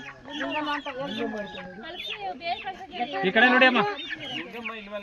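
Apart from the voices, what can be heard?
chickens clucking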